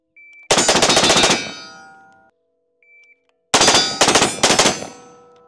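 Scar 15P rifle fired in two rapid bursts, a long string of sharp cracks followed after a pause by another quick cluster, loud and close with ringing metallic decay between volleys.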